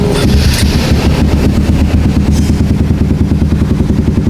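A Honda CBR 150 motorcycle engine runs loud and close during a throttle test after a throttle fault repair, with a clattering, pulsing mid-range roar that surges briefly near the start and then holds steady.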